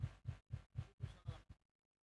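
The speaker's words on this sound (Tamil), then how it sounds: "என்ன ஹார்ட் பீட் இவ்வளோ வேகமாக துடிக்குது?" A rapid heartbeat sound effect pulses in seven even, close thumps, then stops into silence.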